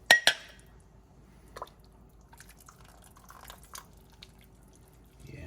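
A ladle clinks against the pot while scooping broth from an Italian sausage and kale soup. A sharp clink comes first, then faint dribbles and small taps in a quiet kitchen.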